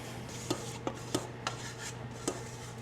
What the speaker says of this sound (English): Scrape this onto our pan.